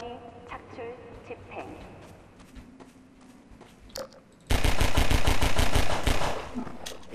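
A burst of gunfire at a barnacle in Half-Life 2 rings out loud and rapid for about two seconds, following quieter game ambience, crunching and a voice speaking.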